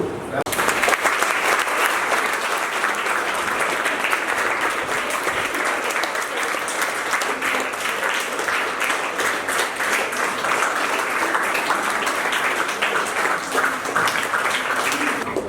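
An audience at a school event claps steadily and loudly to welcome Lions Club members, a dense sustained applause lasting the whole stretch with a faint voice underneath.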